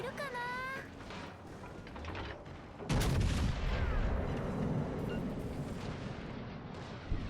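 The battleship Wisconsin's main guns fire in World of Warships Legends, a heavy booming salvo that rolls into a long rumbling decay. A player talks alongside game effects before the blast.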